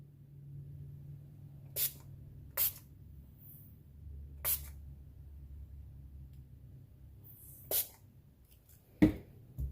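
Marabu Fashion Spray fabric paint is sprayed through a stencil in short, separate hissing bursts, about five of them spaced a few seconds apart, fairly close over a low background rumble.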